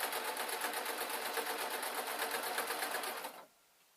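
Sewing machine stitching a seam on a period-style dress, a steady fast close whir with even rhythm for about three and a half seconds before stopping abruptly.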